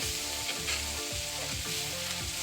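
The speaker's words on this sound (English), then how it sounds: "There's the garlic. Scallion. And it says to cook until fragrant." Garlic and scallions sizzling in hot oil in a pan, a constant close hiss and crackle at steady loudness, with a faint rhythmic pulse running underneath.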